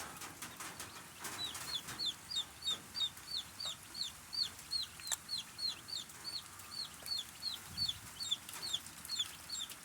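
Newly arrived baby chicks chirp in a steady stream of high, rising peeps, many overlapping calls repeating rapidly and fairly close, with light rustling beneath and no talking.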